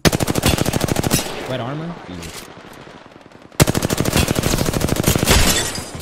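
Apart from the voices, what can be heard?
gunfire shooting at Wraith in Apex Legends video game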